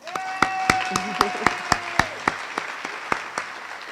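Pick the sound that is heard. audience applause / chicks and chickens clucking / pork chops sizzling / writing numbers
audience applause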